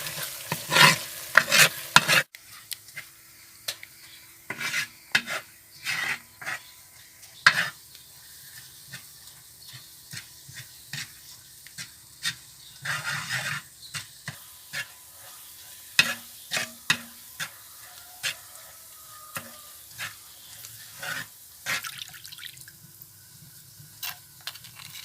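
Chili powder sizzles in coconut oil in a pan for a Kerala mackerel fish curry while a spoon stirs and scrapes it, giving repeated close scraping strokes over a soft steady sizzle, with no talking.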